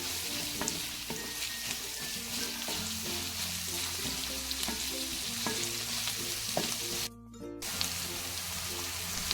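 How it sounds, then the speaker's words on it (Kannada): Chopped onions frying steadily in a pan for poori bhaji, a continuous close sizzle with light scraping and stirring knocks throughout and a brief dip near the end, no voices. "ಈರುಳ್ಳಿಯನ್ನು ಹಾಕಿ ಚೆನ್ನಾಗಿ ಫ್ರೈ ಮಾಡೋದು"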